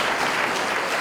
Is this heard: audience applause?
yes